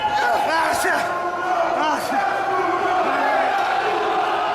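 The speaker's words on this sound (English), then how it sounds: "The crowd getting absolutely wild now" A wrestling crowd roars wildly and steadily throughout a hardcore match at Abdullah the Butcher's retirement event in Canada, loud and sustained, with yells and whoops rising out of the din.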